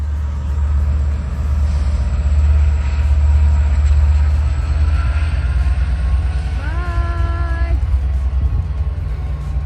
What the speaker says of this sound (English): 73 can't stick around for long, however, and departs Cary a few minutes after arrival